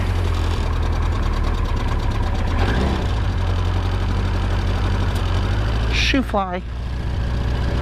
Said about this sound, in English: It's starting to idle up higher